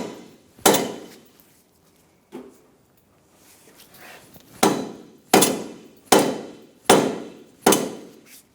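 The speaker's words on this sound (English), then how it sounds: "I'm using a rubber mallet, and I'm hitting the arm" A rubber mallet strikes the front lower control arm of a 2004-2009 Mazda 3 during replacement, giving a few scattered blows and then a steady run of five sharp, close knocks at regular intervals, with no talking.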